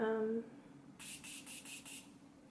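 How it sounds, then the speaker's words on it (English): After a brief voice, a Morphe setting spray bottle fires five quick, even mist bursts in a steady rhythm, close and fairly soft. "let's give it a chance and use a little setting spray"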